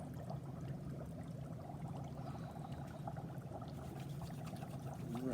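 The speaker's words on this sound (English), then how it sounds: "I can like wash my hands and clean hands." Hands washed with soap and water at a lab sink, a faint, steady running-water splash and trickle lasting a few seconds with no voices.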